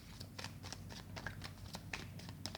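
A deck of cards is shuffled quietly and close for a card reading, in a quick run of soft riffling and flicking with no talk over it.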